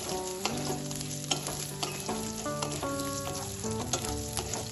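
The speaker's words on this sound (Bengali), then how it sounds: "আলুটা তেলে একটু নাড়াচাড়া করে ভেজে নেব।" Diced potatoes frying in hot oil with cumin, a steady sizzle broken by repeated scraping knocks of a spoon stirring the pan, close and fairly quiet, with no voices.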